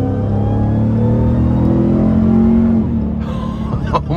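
A supercharged 2024 RAM TRX pickup truck accelerates hard, its engine roaring loudly and steadily up close with a rising tone and supercharger whine, then easing off near the end.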